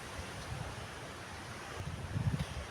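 Storm wind gusts through a rose garden during a downpour, a faint, steady rumbling rush that swells into stronger buffets near the end, with no voices.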